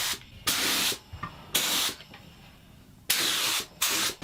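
A spray gun applies water-diluted sealer to a quilted maple bass guitar body in four separate hissing bursts of about half a second each, with quiet gaps between them.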